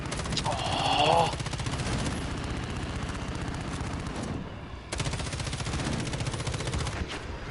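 Aircraft gunfire in Call of Duty Modern Warfare, a steady rapid rattle of shots under loud battle noise, briefly dropping away before resuming, with someone talking over it.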